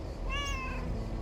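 Mortimer the cat lets out a single short, close meow against a steady low rumbling backdrop.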